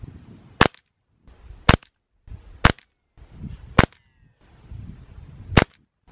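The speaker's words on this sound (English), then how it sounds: "So I just shot a group with the premieres" Five sharp, loud shots from a Beeman QB Chief .22 PCP air rifle firing pellets, spaced about a second apart, each a crisp crack with faint handling rustle between them.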